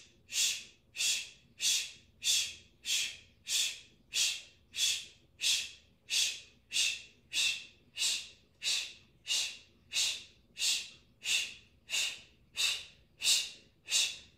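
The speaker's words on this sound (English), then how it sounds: "Strong exhales all the way down from your belly." Forceful exhales from the belly in a core-focused breathing exercise, about eighteen sharp, even, rhythmic puffs of breath close to the microphone, each followed by a brief silent pause, with no talking.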